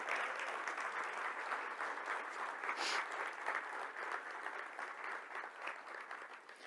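A church congregation at a men's congress applauds, with a sustained crowd clapping that sounds somewhat distant and reverberant and stays even for several seconds before easing slightly at the end.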